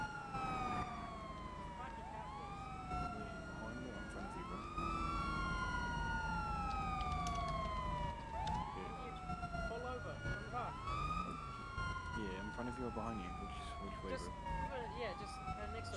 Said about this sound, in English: I'm gonna check my sirens off. It's getting a bit loud.